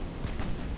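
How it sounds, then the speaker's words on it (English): A torpedo striking a warship in the naval game Ultimate Admiral: Dreadnoughts, heard as a short, dense, rumbling boom that fills the moment with low, muffled impact noise. "Yeah, I took a torpedo hit."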